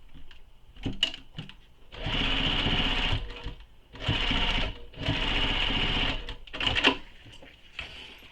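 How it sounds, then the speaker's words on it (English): A sewing machine stitching a zipper gusset seam for a quiver sling, running in three sustained bursts with short pauses and a few clicks and handling knocks between them, close and steady, with no talking. "And you'll sew this with the seam allowance given in the pattern."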